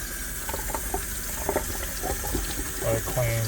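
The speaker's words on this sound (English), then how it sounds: "now we're going to rinse our cilantro" Fresh cilantro is rinsed under a running kitchen tap, with a steady rushing splash that continues throughout, close up, while a voice speaks faintly underneath.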